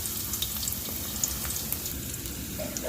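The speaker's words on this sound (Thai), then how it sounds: "ตั้งกระทะใส่น้ำมันแล้วก็ เจียวกระเทียมก่อนครับ" Steady, close sizzling of garlic frying in hot oil in a pan, a continuous crackling hiss with small pops, no voices.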